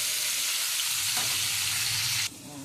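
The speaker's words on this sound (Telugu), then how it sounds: "ఇందులోనే కొద్దిగా ఆయిల్ పోసుకొని ఇప్పుడు గోంగూర వేసి వేసుకోవాలి" Gongura leaves fry in oil with a loud, steady hiss. The sizzle briefly flares and then drops abruptly near the end as stirring continues, and no one speaks.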